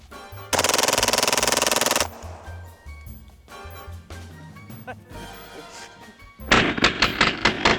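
A Kriss Vector with a forced reset trigger fires .45 230-grain FMJ rounds in two loud, very fast sustained bursts with a few single shots in between, all close and harsh.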